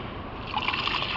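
Animal blood, partly congealed, poured into a container for homemade catfish feed, giving a brief soft trickling and dribbling of thick liquid that grows a little wetter and splashier toward the end, close by with no talk.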